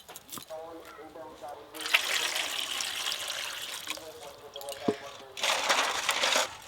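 Running water splashes over raw eggs being washed in a home kitchen, in two longer bursts with a trickle between them, fairly close, while someone talks over parts of it.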